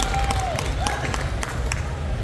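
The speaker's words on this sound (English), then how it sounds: "Round of applause for Katy Dauntless" An audience claps steadily for a contestant at a pinup pageant held at a tattoo expo, the dense crowd applause sustained and fairly loud throughout, with a faint whistle or cheer rising briefly over it.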